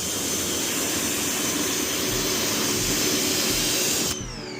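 A pressure washer rinses a dirty work van with a loud, steady hissing roar of spray that drops away sharply near the end.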